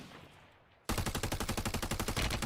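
Automatic gunfire erupts in the Warzone video game after a quiet lead-in, a rapid, even string of loud close-range shots firing steadily to the end with no talk.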